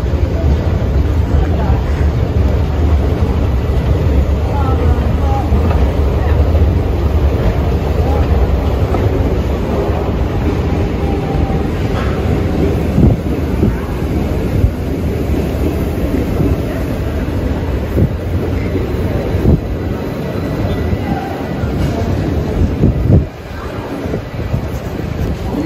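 A high-speed train sits at a Swedish railway platform, giving a steady broadband rumble with wind buffeting the microphone, loud and continuous, with a dip near the end.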